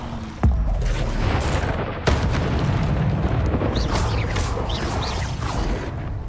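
A spell cast in the Hogwarts Legacy video game: a sudden booming whoosh lands near the start, followed by a second thump and a dense, rumbling magical wash that carries on loudly, with no talking.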